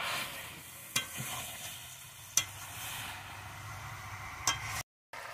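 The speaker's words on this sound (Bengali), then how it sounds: "এইবার বেশ কিছুক্ষণ ধরে এইভাবে মাংসটাকে কষিয়ে নেবে।" Mutton sizzles in a pan over a wood fire, a steady frying hiss broken by a few sharp clinks as the meat is stirred, heard close with no talk.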